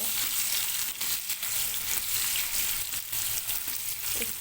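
Potato pieces seasoned with turmeric and salt fry in oil in a pan, giving a close, steady crackling sizzle broken by soft stirring scrapes.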